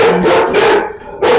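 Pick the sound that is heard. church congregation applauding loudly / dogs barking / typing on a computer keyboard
dogs barking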